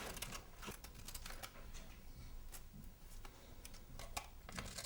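Scissors cutting a photo to size, a rapid series of crisp snips and paper crunches repeating close by and quietly for several seconds.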